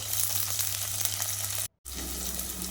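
Finely chopped large onions drop into hot oil tempered with cinnamon for a vegetable kurma and fry with a loud, steady close-up sizzle, cut by a brief silent gap before the frying resumes.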